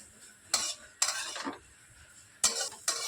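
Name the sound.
stirring grated carrot in a pan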